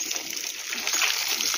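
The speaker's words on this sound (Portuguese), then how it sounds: "Porque a gente tem que saber economizar água, tem que saber ir regando conforme" Water splashing steadily onto garden plants, pumpkin, tomato, papaya and cassava, during watering, a continuous close hiss-like spatter with no talking.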